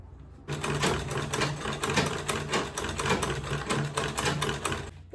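A sewing machine top-stitches an Ankara and leather bowler bag, starting abruptly and running in a fast, even mechanical clatter of needle strokes, close and steady for several seconds with brief pauses in speed.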